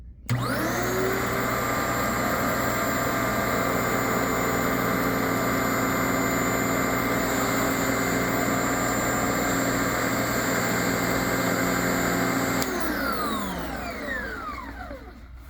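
A CleanMax Champ CMP-5T commercial upright bagged vacuum runs on a low-pile Berber carpet, its motor and brush roll holding a loud steady whine before powering down with a falling tone.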